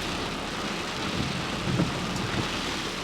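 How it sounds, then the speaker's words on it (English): Heavy rain pours steadily with a low rumble of thunder rolling through midway, a dense wash of sound heard from shelter without talk. "It is pouring."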